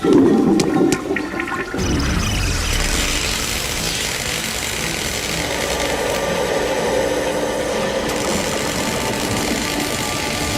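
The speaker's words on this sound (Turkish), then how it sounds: "Sifon nerede yahu?" A toilet flushing in a Turkish sitcom scene, starting with a brief loud burst and then a steady rushing, gurgling water flow that carries on for about ten seconds, with no talk.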